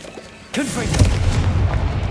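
Confringo blasting spell detonating in Hogwarts Legacy, a sudden loud boom with a rumbling low-end tail that stays heavy and sustained after the blast, with no talking.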